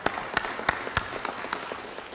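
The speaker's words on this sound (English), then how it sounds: "That sounds like a pretty good spot for applause." Scattered applause at a city council meeting, a handful of sharp distinct claps over a thin patter of hands, short and fairly close.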